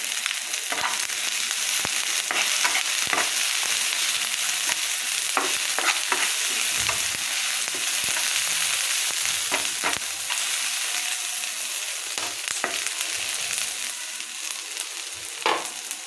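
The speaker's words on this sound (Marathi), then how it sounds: "ह्या दोन तीन तीन हिरव्या मिरच्या ह्याच्या टाकणार आलं लसूण थोडंसं असं फ्राय करणार" Green chillies, ginger and garlic frying in a pan with onions for butter paneer masala, a steady loud sizzle broken by frequent scraping stirs of a spatula, with no talking.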